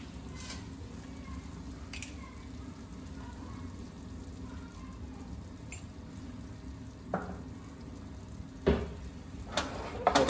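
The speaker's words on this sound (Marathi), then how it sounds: "त्याला सॉते करून घेऊयात, मिक्स करून घेऊयात." Paneer butter masala sautéing in a pan while being stirred and mixed, a soft steady sizzle with occasional scrapes and clinks of the spoon, close and fairly quiet, with no talking.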